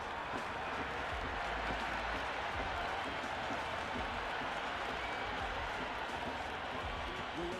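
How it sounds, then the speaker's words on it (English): A large cricket stadium crowd in Ahmedabad roars and applauds after a six, a continuous, dense wash of noise, steady and loud throughout with no pauses. "Listen to that crowd. They are loving this."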